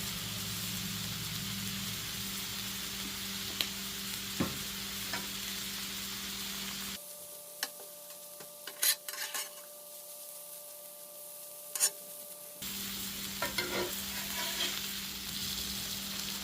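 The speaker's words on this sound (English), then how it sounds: "And we're going to mix the onions into the pulled pork." Onions and pulled pork sizzle steadily on a hot cooking surface while being stirred and mixed together, a continuous close frying hiss with occasional scraping taps and a brief quieter stretch in the middle.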